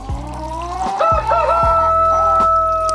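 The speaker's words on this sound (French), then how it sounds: "Ah, les coqs, ils arrêtent pas là." Roosters crow loudly and repeatedly, several long drawn-out calls overlapping, with clucking in between and no talk.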